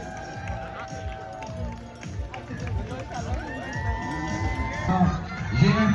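Roadside crowd cheering and shouting for marathon runners passing by, including children's voices, with voices rising toward the end and people talking close by throughout.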